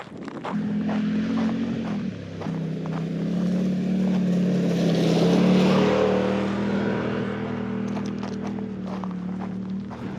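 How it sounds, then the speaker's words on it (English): A 4x4 vehicle on a dusty desert trail approaches and rushes past at speed, engine swelling to a peak midway then fading, with a steady rumble beneath. "How many of these 4x4 guys just blow right by you without even bothering to slow down at all?"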